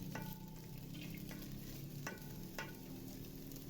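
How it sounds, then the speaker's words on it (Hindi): Carrots and mixed vegetables are stirred with a spoon in a hot pan for chicken fried rice, with a low continuous sizzle and a few sharp scraping clicks of the spoon against the metal. "इन सब सब्जियों को डालना है। देखिए जी ऐसे डालते हैं और चम्मच चलाएं।"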